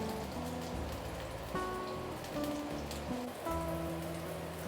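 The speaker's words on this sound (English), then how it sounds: "Saute until the fragrance, the aroma really release into the oil." Ginger and garlic sautéing in hot oil for a ginger onion chicken stew, a steady close crackling sizzle that runs through the whole stretch with faint tonal hum beneath, no voices.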